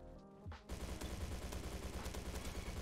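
Shotgun pistol fire in the Roblox shooter Bad Business: after a brief lull, a fast string of sharp, evenly spaced gunshots rattles off continuously at moderate volume.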